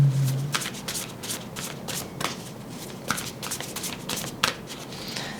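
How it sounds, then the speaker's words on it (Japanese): Oracle cards being shuffled by hand, a rapid series of soft papery riffles and slaps in an irregular rhythm, close and fairly quiet with no talk. "最後にもう一枚オラクルカード引いてみましょう。"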